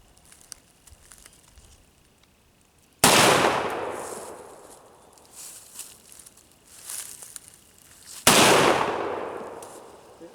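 A rifle fires two loud, separate shots several seconds apart; each blast rings out in a long, fading roar.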